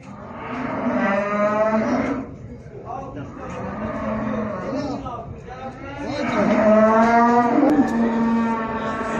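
Bull calves at a sheep, goat and cattle market in Mashtaga lowing loudly and close, three long drawn-out moos one after another, with market noise in the background.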